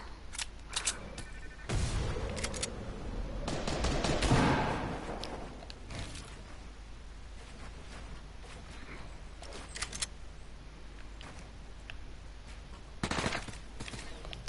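Gunfire in a shooter video game, a burst of shots rising and swelling around the start, then scattered sharp reports and a brief loud flurry near the end, with no talk over it.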